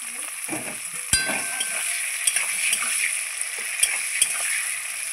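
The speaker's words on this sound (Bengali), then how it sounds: "এগুলো আমি একটু হালকা লাল লাল করে ভেজে নেব" Chopped onions and garlic fry in oil in a pan for a Bengali rohu fish curry, giving a steady close sizzle throughout, with sharp scrapes and taps from a spatula stirring at intervals.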